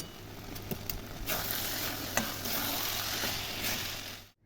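Ghee dropped into a pan of nearly finished Bengali muri ghonto, producing a soft, continuous sizzle with a few light clicks and stirring scrapes before cutting off abruptly.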